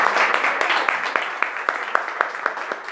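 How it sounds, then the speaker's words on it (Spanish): Audience applause at a special program event at SADE, a steady patter of many hands with sharper individual claps standing out, moderately loud and filling the room, with some voices mixed faintly underneath. "Un aplauso para él."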